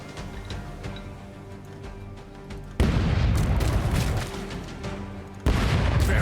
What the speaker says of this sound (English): Cannons, rain fire.